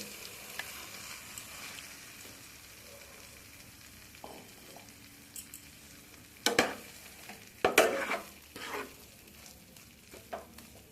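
Green pea paste dropped into a pan of frying ginger and green chilli, a low steady sizzle with several sharp bursts of spatter and scraping of a spoon.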